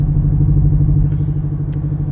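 A race truck engine running in cylinder deactivation mode gives a loud, steady, low droning rumble with a rough, uneven pulse, heard alone and close.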